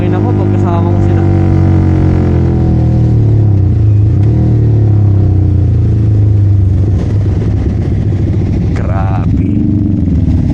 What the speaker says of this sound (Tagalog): Nabibirit ko lang talaga makina ko pag kasama ko sila.